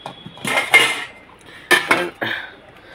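Metal utensils clink and scrape against a plate as rice is served, coming in a few close, separate bursts with short pauses between them.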